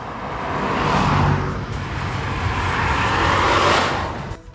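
2020 Volkswagen Polo TSI with a 3-cylinder petrol engine, heard while driving: a steady, loud thrumming engine and road roar that swells and eases slightly, with no talking.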